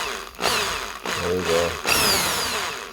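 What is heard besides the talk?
power drill drilling a toy Barbie 1956 Corvette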